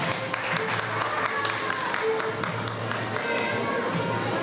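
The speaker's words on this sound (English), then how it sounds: "Please give them a big round of applause" Audience applause at an anniversary celebration for a dance group, a steady mid-level clatter of many hands with voices mixed in.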